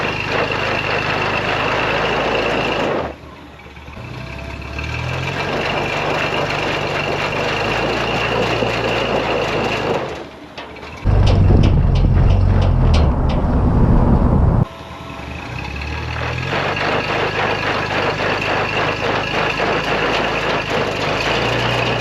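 Heavy diesel drone of a 15,000 pound Coleman MB4 tracked vehicle turning sideways in dirt, steady and loud throughout, with the revs rising and a harsh rumbling surge in the middle before it settles back to a constant roar.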